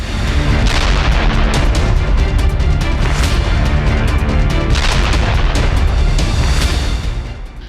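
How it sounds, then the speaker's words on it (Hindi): Explosions rip through a fuel depot near the Black Sea during a drone attack, a loud continuous barrage of booming blasts and crackling detonations overlapping with sharp impulsive bursts, heavy and dense for the whole stretch. "ब्लैक सी के पास ईंधन टैंक में विस्फोट"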